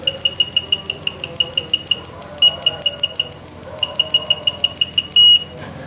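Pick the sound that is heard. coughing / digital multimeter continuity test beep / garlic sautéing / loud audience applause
digital multimeter continuity test beep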